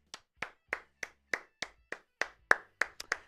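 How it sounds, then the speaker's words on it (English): A single person clapping hands about eleven times in a steady, evenly spaced rhythm, close and crisp with quiet gaps between claps. "I'm clapping it up for y'all if you're still in the chat."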